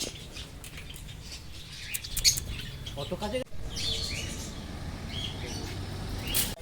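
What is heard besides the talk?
birds chirping in an aviary, budgerigars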